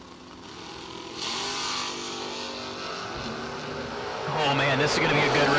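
A Pontiac Firebird and a Chevrolet Malibu drag race car roar at the starting line, engines rumbling and building to a louder revving launch toward the end, with an announcer talking over them.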